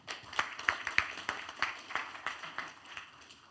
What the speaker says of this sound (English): Can we have a round of applause, please, for Alex from River?